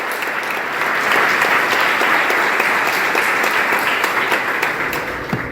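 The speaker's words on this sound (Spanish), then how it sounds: "Dele un fuerte aplauso" A church congregation bursts into loud, sustained applause, dense clapping holding steady for several seconds close to the listener.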